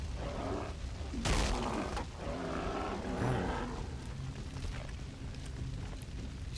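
Deep animal roaring and grunting from a bull in the video game Far Cry Primal, loud bursts over a dense rumbling game soundscape with impacts.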